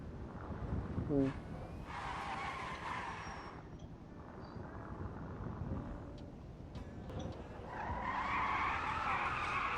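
A car in GTA V brakes hard on its front brakes, tires skidding and squealing in bursts over steady engine and road noise, while someone talks over the game.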